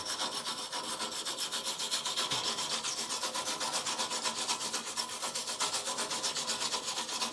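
Hand scraping of EDP coating off a steel truck part for a leaf spring perch, a rapid even rasping rub repeated steadily for several seconds, close and continuous, with no speech.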